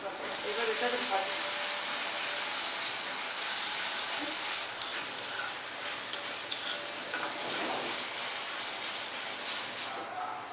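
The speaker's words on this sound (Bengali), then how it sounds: "এবার এটাকে ভাজি" Ground spice paste (masala) for egg curry fries and sizzles in a pan, a steady close hiss with occasional stirring scrapes throughout.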